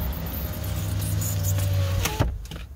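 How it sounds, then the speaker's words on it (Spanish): Power window motor on a 2012 Jeep Wrangler rolls the glass up with a steady close whine for about two seconds, ending in a sharp thunk as it seats, with no talking. "Déjenme subo la ventana aquí."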